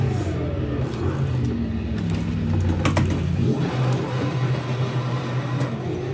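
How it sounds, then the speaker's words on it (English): A race car engine revs hard in third gear in the Assetto Corsa racing game during a drift tandem session: a loud, sustained engine roar rises and holds, with a brief rough burst partway through and no speech. "Third gear ripping."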